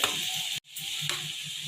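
Tomatoes and chili powder sizzle steadily in a hot pan for bendakaya pulusu, a close, continuous frying hiss with a brief break and soft stirring scrapes.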